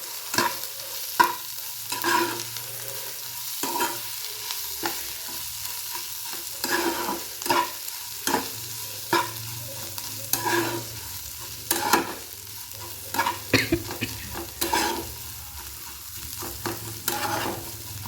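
Spoon scraping and stirring a pan of prawn thecha with salt and coriander mixed in, a soft steady sizzle broken by repeated irregular scrapes and clinks, close and alone.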